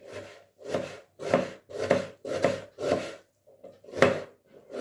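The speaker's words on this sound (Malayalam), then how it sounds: "ചെറിയൊരു സവാള ചെറുതാക്കി കട്ട് ചെയ്യാം" A small onion is chopped finely on a board. About eight evenly spaced, close knife strokes thud and scrape with a steady rhythm and a brief pause near the end, and no voices are heard.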